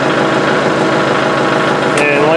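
A tractor engine runs steadily at idle, close and loud with a constant droning chug that continues throughout, while a hydraulic cylinder is being tested.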